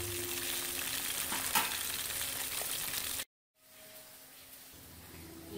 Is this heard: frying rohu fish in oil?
yes